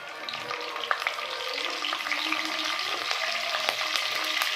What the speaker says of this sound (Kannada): ಎಣ್ಣೆ ಬಿಸಿ ಆದಮೇಲೆ ಸ್ವಲ್ಪ ಸಾಸಿವೆ, ಜೀರಿಗೆ, ಕರಿಬೇವು,